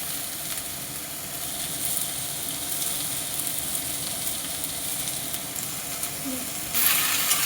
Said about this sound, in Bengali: একটু আমি ভেজে নিলাম এইগুলো